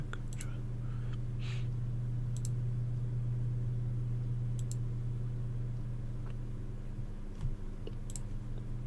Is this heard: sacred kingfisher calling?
no